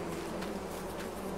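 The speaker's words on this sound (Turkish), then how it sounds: "Arı." Continuous insect buzzing of bees in the Farming Simulator 20 video game, a steady, even drone with no breaks, alone with no talk.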